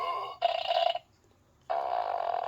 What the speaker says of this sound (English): I guess there are different variations of his fart noises.